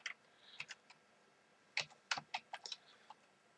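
Keys clatter on a computer keyboard in short bursts of quick taps, separated by brief pauses.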